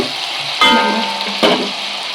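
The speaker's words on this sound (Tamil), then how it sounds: "இஞ்சி பூண்டோட பச்சை வாசம் போடுறதுக்கும் கொஞ்சம் வதக்கிட்டு" Ginger and garlic paste sautéing in hot oil in a pan for a Hogenakkal-style fish curry, giving a steady loud sizzle with two brief bursts of stirring, no voices.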